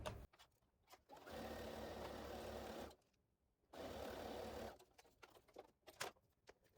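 A sewing machine stitches a quilt block in two steady bursts of fast whirring, about two seconds and one second long, with a brief pause between and quieter handling sounds around them.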